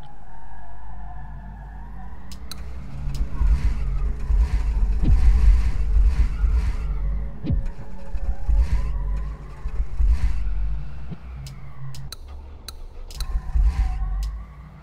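Car driving in the open-world turn-based RPG The Dead Await, with a steady low engine rumble and revving, occasional skid-like bursts and sharp clicks throughout.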